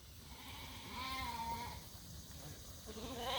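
Several wavering bleats from ewe lambs close by over a steady rustling background, with one longer bleat in the middle and more near the end.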